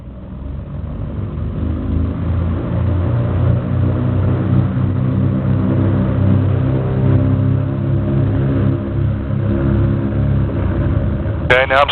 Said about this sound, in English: now I'm cycling oil through the props to make sure that the oil is in there and that the props will work appropriately